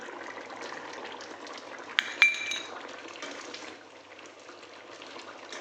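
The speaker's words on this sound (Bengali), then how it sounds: "এবার আমি জল দিয়ে দিচ্ছি চিংড়ি মাছ কটা দিয়ে দিচ্ছি" Water poured into a pan of fried spices for a prawn curry, followed by prawns dropped in: a steady liquid wash with a sharp clink of utensil on pan midway, then a quieter simmer.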